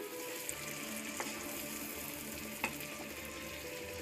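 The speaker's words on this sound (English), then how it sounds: "we take the onions, we fry them in butter, like shown here" Onions frying in butter in a pan after a splash of water, with a steady soft sizzle and bubbling, plus a few light clinks of a utensil stirring, close and alone.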